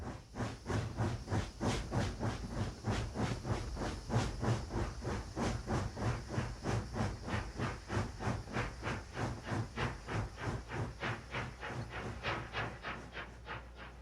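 A steam locomotive chuffs into Copper Flat in a steady, rhythmic series of loud hissing exhaust beats, with faint rail clatter beneath, continuous and close.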